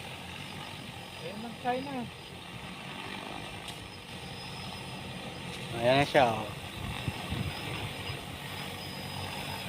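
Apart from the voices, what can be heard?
helicopter flying overhead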